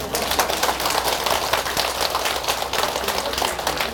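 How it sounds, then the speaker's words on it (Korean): Sustained applause from a crowd at a political speech, a loud, dense rush of many hands clapping continuously without letting up for several seconds. "박수를 좀 세게 좀 쳐주시기 바랍니다."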